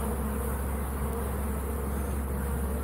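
Honey bees swarm around an opened hive, a dense, steady buzz of many wings close by with no voices.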